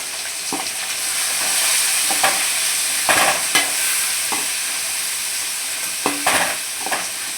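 Tomatoes are stirred into onions frying in a pot for mutton biryani, with a steady loud sizzle and periodic scraping strokes of the spoon against the pan, no voices.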